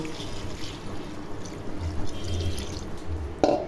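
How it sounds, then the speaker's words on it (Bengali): Water is poured into a pan of simmering fish curry with ridge gourd, a steady trickling pour with light drips and a sharper clink near the end, no voices. "তরকারি কষা হয়ে গেছে, এখন পরিমাণ মতো পানি দিয়ে দিব।"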